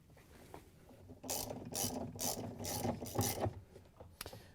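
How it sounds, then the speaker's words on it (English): Ratchet driving a 7/16" socket on a long extension to tighten down a washing machine agitator in a Whirlpool/KitchenAid/Maytag tub, heard as a run of about six rapid, loud clicking bursts close by, then a brief pause. "we can use our 7/16" socket and a long extension with the ratchet to tighten it down."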